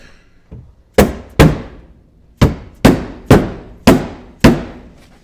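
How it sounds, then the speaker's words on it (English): Seven sharp metallic hammer blows driving rivets during a KFI A2000 winch and bumper install on a Polaris Ranger, coming in an irregular rhythm, loud and close, each strike ringing out briefly. "I'll hammer in a second when I get all four of them in"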